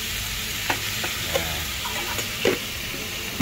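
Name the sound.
stirring pechay vegetables with salt in a pan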